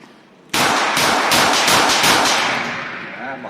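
A Taurus 605 .357 revolver with a 2-inch barrel is fired quickly left-handed, several loud sharp cracks in rapid succession, ringing together with strong echo that slowly fades.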